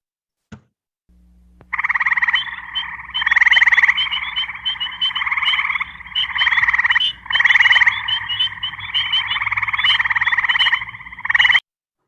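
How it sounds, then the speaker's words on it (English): An Eastern gray tree frog calls close and loud in repeated long trills, with faint spring peepers chirping in the background and no voices. "So that was our classic Eastern gray tree frog with some spring peepers present, beautiful little chirp, chirp, chirps."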